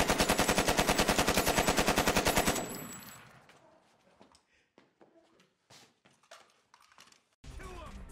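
Rapid automatic gunfire from the video game GTA V, a steady loud burst of evenly spaced shots lasting a couple of seconds, then scattered single shots and distant pops under quieter game sounds, with another loud burst at the end.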